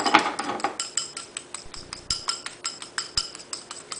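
A whisk or utensil strikes a bowl in a steady, rapid clinking rhythm while beating a face mask mixture with carrot oil, close and fairly clear, with no talk.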